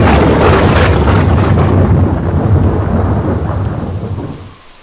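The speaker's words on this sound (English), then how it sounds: "Can you hear thunder?" Loud rolling thunder rumbles continuously over steady heavy rain, fading toward the end.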